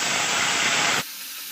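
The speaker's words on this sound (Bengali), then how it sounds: "এবার পেঁয়াজের পেস্ট দিয়ে দেব।" Onion paste hits hot oil tempered with bay leaf for a jackfruit kofta curry, giving a loud, dense, close hiss that holds steady for about a second before cutting off sharply to a quieter background.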